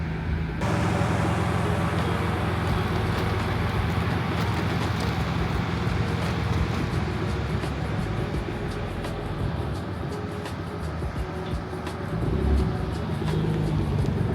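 A twin-turbo Toyota Supra MK4 on coilovers rolls slowly over a driveway lip. A steady engine idle and low road rumble stay close throughout, with a brief louder bump near the end.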